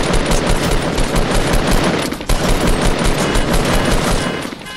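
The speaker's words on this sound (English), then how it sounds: "Shot him 4 times and he's still not down." Continuous rapid gunfire in Fortnite, a loud dense stream of shots with one brief pause midway, close and dominant with no talk.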